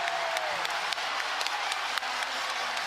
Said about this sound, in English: listen to this Coleman Coliseum crowd